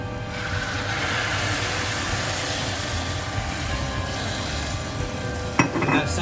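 Risotto rice frying in a hot pan makes a loud, steady sizzle throughout, with a sharp burst near the end as white wine hits the pan.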